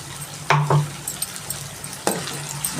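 Spices being stirred into a mutton and brinjal curry in a pan, with a few close scraping and clinking strokes of a spoon over a soft background sizzle, no talking.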